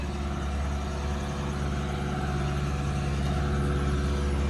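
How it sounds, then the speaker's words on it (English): A heavy engine rumbles and idles steadily while old cars are loaded roughly onto a truck at a Canadian towing yard, a continuous close low drone without clear impacts. "They're loading them pretty rough,"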